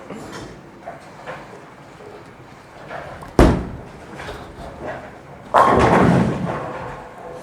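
Brunswick Mesmerize bowling ball delivered down the lane: a heavy thud as the ball lands, a rolling rumble, then a loud crash into the pins that fades as they scatter, heard close and with no talking.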